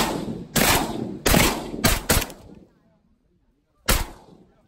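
Shotgun blasts at ducks during a Wisconsin duck hunting opener, five loud close booms in an uneven volley followed by a pause and one more shot.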